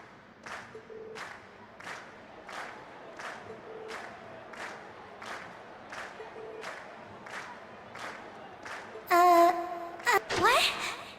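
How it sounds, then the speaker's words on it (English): A concert crowd in the video game Trails of Cold Steel cheers in steady rhythmic bursts, fairly faint and evenly spaced, before a louder, sharper burst of noise near the end. "we've heard your cheers loud and clear"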